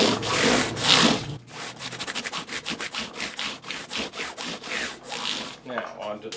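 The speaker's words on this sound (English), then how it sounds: "we're just scrubbing the crowns back to center" A 1200 grit scrub block rubs back and forth over the fret crowns of a Les Paul guitar, giving a close, steady series of quick, even sanding strokes with no talking.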